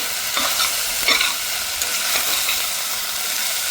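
Spices being stirred into khichdi in a pan over a steady, close frying sizzle, with a few scraping strokes of the spoon standing out at intervals.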